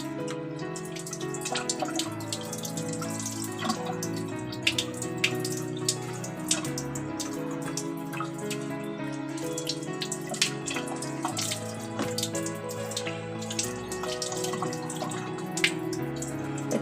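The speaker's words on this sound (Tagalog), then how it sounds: "alam nyo naman kung paano hugasan yung itlog" Eggs are washed under a running kitchen tap, with a steady close splash of water and frequent small clinks and knocks as the shells are handled, and no talking.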